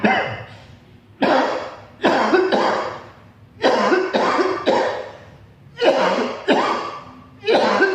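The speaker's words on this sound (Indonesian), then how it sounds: "dan dibatuk-batukan dikit-dikit." Deliberate coughing to clear phlegm while lying face down, a person recovering from COVID-19, with seven or eight loud, close, chesty coughs spaced about a second apart, each a short harsh burst, with no talk.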